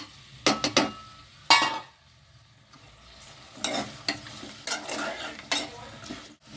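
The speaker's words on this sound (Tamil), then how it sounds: "கொஞ்சம் நேரம் இதெல்லாம் வதங்கட்டும். இது கூட நான் தக்காளியும் போட்டுக்கிறேன்." Vegetables and tomatoes being sautéed for South Indian vegetable sambar, with a utensil stirring and scraping in the pan in several loud bursts over a soft background sizzle.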